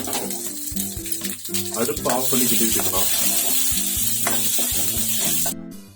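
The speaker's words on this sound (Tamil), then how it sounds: "அடுப்பு ஆஃப் பண்ணி கிண்டி விட்டுக்கலாம்." A spoon stirs through beetroot chutney in a pan with the stove off, scraping and clinking over a lingering sizzle, with gentle music playing underneath.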